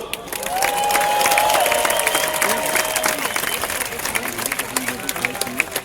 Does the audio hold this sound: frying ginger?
no